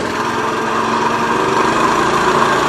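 A motorcycle engine holds a very low idle, producing a loud, steady buzzing drone with a slight rhythmic flutter, close by and alone, no talking.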